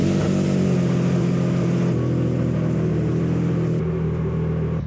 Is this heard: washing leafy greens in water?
no